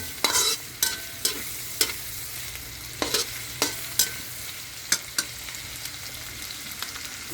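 Garlic, onion, chili and shrimp paste sauté for Bicol express with bamboo shoots, giving a steady sizzle broken by repeated sharp scrapes and clanks of a spatula stirring the pan.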